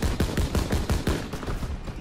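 Automatic gunfire in Call of Duty WWII during the Ardennes operation: a loud, close burst of about ten evenly spaced rapid shots that fades slightly toward the end, with no voices.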